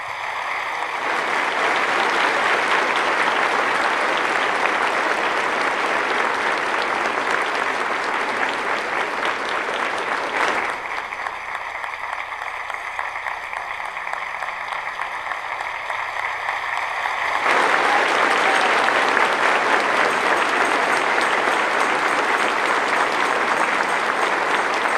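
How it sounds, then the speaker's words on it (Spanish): A church congregation applauds God with steady, loud, dense clapping that lasts throughout. A held tonal chord sounds briefly midway before the full clapping returns. "Un aplauso para nuestro Dios."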